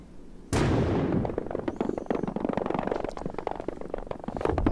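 A sudden loud blast goes off in a video game, followed by several seconds of crackling, rumbling debris that fades slightly but keeps popping until the end.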